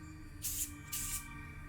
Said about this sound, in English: Always get a fresh comb, spray it with disinfectant.